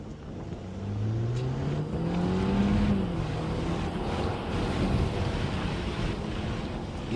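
A 2014 Audi A4 with all-wheel drive and about 200 horsepower pulls away in manual sport mode, its engine note rising steadily over a few seconds, heard from inside the car under steady wind and road rumble, with no talking.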